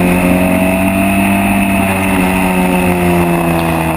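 Onboard a historic Formula Ford race car at Silverstone, the engine drones loud and close at a steady high pitch through the corner, a constant buzzing roar with no talk.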